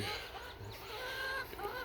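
Large meat chickens cluck and murmur in a continuous low chorus close by, with scattered squawks rising over a steady background hum from a fan.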